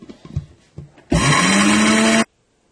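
A kitchen blender grinds a persimmon face mask mixture in one steady, loud whirring burst of about a second, preceded by faint handling noises and a quiet voice, then cutting off abruptly.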